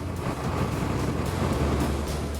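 An outback road train's truck engine labours at full power up a mountain climb, a loud, dense, unbroken roar with steady low rumble and no pauses.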